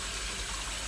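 Hot water runs from a kitchen tap into a sink for hand-washing dishes, a steady, fairly loud gushing rush that fills the short stretch alone, with no voices.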